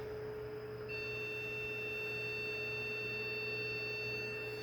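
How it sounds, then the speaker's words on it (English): An Objet Connex 500 3D printer with no signal sounds a steady electronic beep continuously over a low mains hum, with a second higher tone joining partway through; no voices. "Why is it beeping?"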